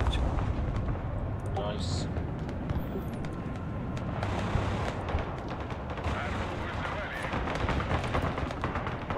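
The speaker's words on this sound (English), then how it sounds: "Well, I got a little bit of artillery." Artillery fire in the Broken Arrow war game, repeated booming blasts and gunfire rumbling through the battle noise while someone talks over it.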